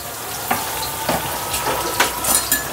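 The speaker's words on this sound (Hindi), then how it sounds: "हाँ फ्रेंच बीन डाल दे और बाकी छोड़ दे, थोड़ा फ्राई हो जाएगा" French beans fry in hot oil for a noodle dish, a continuous crackling sizzle close by, broken by several sharp scrapes and taps of a spoon stirring the pan.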